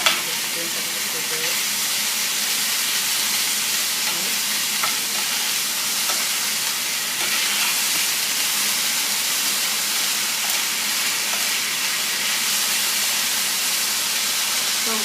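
Nopales cactus frying in a pan, a dense, even sizzle and steamy hiss that runs unbroken and fairly loud throughout, with faint stirring clicks and no talk.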